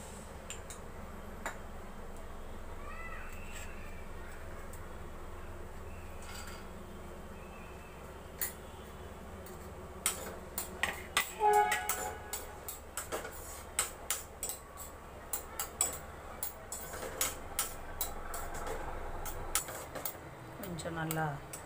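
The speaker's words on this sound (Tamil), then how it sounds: "முதல்ல 2-3 ஸ்பூன் நெய் போட்டு முந்திரியை பொரித்து எடுத்துக்கலாம்." Cashews fry in two to three spoons of hot ghee in a pan for ashoka halva, giving a soft steady sizzle with sharp clicks and taps of a utensil stirring, louder in the second half.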